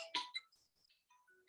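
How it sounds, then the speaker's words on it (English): A phone ringtone chirps in a short burst of bright, bell-like tones indoors during a lecture, followed by a few fainter electronic beeps. "Sorry, I have to get this phone."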